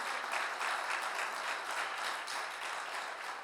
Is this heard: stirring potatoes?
no